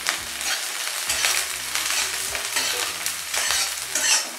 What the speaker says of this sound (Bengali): দেখুন আমার লঙ্কা পেঁয়াজ ভাজা হয়ে গেছে।